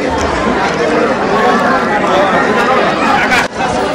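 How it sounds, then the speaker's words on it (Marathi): Dense crowd of pilgrims at the Jejuri temple, a loud, continuous babble of many voices and footsteps filling the space close around, with a brief dip near the end. "आता वरती आलोय आम्ही, बघू शकता खूप गर्दी आहे"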